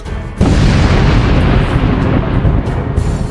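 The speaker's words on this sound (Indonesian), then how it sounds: "Dari kejauhan, sebuah ledakan besar jelas terlihat." A sudden loud, deep blast erupts and then rumbles on without pause, a heavy roaring boom that fills the whole clip with no voices.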